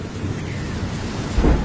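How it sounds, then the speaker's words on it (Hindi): Heavy rain falls in a thunderstorm, a dense roaring wash with a deep thunder rumble swelling at the end of the short stretch. "बाहर बहुत तेज बारिश हो रही है।"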